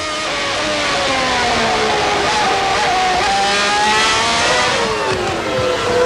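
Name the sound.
Ferrari Formula 1 car engine on wet track, 1995 Japan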